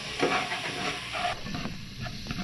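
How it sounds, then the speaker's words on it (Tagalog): Onions sautéing in a pan for chicken tinola give a close sizzling hiss, broken by a few quick spatula scrapes and stirs, with no one speaking. "Gisahin natin na maigi para katas na katas yung lasa niya."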